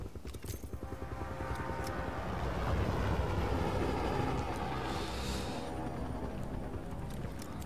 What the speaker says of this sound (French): Toujours l'hélico là, on s'est toujours pas battu contre les hélicos.